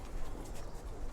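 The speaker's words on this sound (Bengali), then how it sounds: "এটা একটা মাদি কবুতর" A female pigeon coos softly in a low, breathy murmur, close by and alone with no talk.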